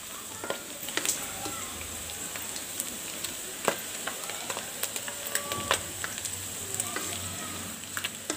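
Fish with a few shrimp frying in hot oil with onion and garlic, a continuous soft sizzle broken by irregular crackles and pops, with quiet kitchen clatter from stirring.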